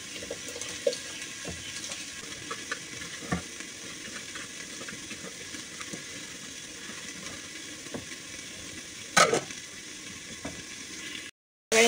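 Food frying in a pan on a home kitchen stove, salt and turmeric going in: a steady soft sizzle with light clinks and stirring scrapes, continuous throughout at low level, with a louder clatter near the end.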